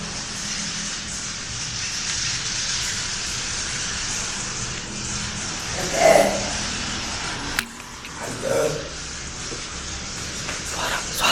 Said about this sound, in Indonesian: jeritan-jeritannya burung walet ini terdengar ya, sangat berisik sekali